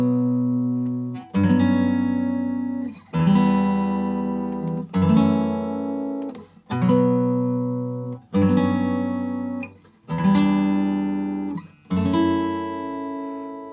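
Plucked fingerstyle guitar plays a phrase of the Gustave theme from Clair Obscur: Expedition 33, one rich chord roughly every second and a half, each left to ring out and decay before the next. Close and clear, with the instrument alone.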